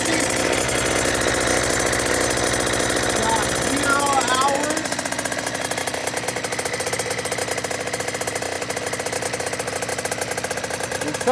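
A 2018 KTM 50SX kids' dirt bike engine fires up and settles into a steady, buzzing idle, loud and close throughout with a slight change in tone partway through.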